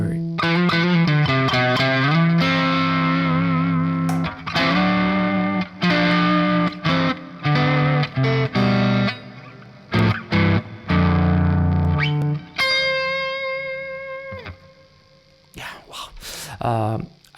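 Crunchy electric guitar run through reverb in Logic with Waves plugins plays choppy distorted chords and notes in bursts, ending on a ringing sustained tone that decays with reverb tail, loud and close, no talk.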